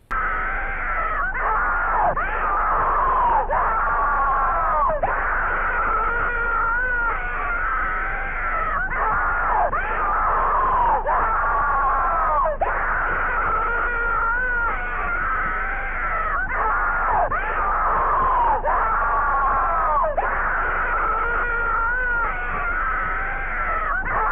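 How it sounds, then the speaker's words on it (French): Continuous anguished screams and wailing cries from a horror short recording, repeated in a steady cycle of rising and falling howls, loud and slightly muffled, with no talking. "Alors au début on peut entendre des sortes de bruits étouffés, puis ensuite les cris commencent à se faire entendre"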